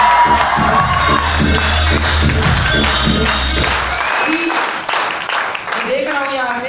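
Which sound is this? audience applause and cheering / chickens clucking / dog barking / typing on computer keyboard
audience applause and cheering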